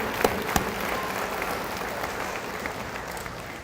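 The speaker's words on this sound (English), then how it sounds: "So let's give him a round of applause in absentia this evening, Corey Foster at ADOT." A graduation audience claps for an absent honoree, steady moderate applause from a crowd with a couple of sharper nearby claps, continuous throughout.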